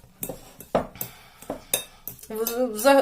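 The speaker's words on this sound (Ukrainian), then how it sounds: "розминаю творог оце вилочкою" A fork knocks and scrapes against a bowl while mashing cottage cheese for syrniki, making a run of separate clinks followed by a denser scraping stir, with no talking.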